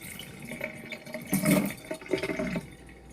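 Water poured into a bowl of boxed brownie mix, a short close splashing gurgle with a swell in the middle.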